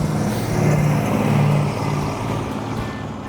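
A 1972 Dodge Charger Rallye engine roars hard as it accelerates, a loud, dense, continuous low-pitched growl heard nearby that eases slightly toward the end.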